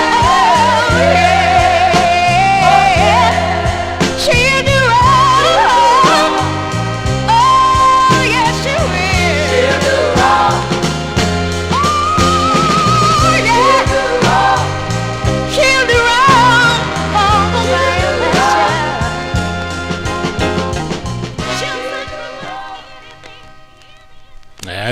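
A late-1960s soul 45 on the Atco label spins on a record player, full band and lead vocal with backing singers running continuously and loud before fading out near the end.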